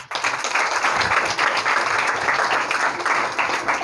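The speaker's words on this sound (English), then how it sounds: "You all deserve a warm round of applause." Warm applause from a school audience in a junior high campus gathering, a dense wash of many hands clapping at once, loud and sustained throughout with no voices over it.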